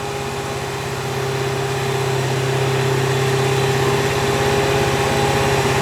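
A junkyard Ford 289 V8 that sat for over 45 years runs on a dyno, revving upward with a steady, throbbing firing pulse. It grows slightly louder as RPM climbs and seems to start missing at the higher revs.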